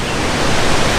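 Detian waterfalls on the China–Vietnam border roar as a steady, dense wash of broadband noise, loud and unbroken with no voices.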